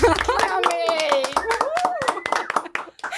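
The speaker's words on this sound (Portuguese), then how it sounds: "Palmas!" An audience claps to welcome a guest onto a show, with sharp, close hand claps and excited voices and cheers mixed in over the clapping.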